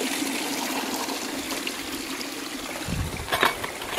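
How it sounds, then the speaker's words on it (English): Water runs in a steady, close trickle through a mini sluice while classified material is spooned in, with faint scraping and a slightly louder splash near the end. "Now we're going to spoon it through the mini sluice."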